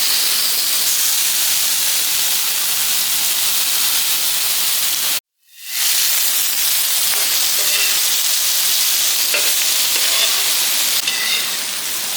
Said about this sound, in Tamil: அதுக்கு வந்து தோசைக்கல் வச்சு ஹீட் ஆகிட்டு தோசைக்கல் மீனை வறுத்துக்குவோம்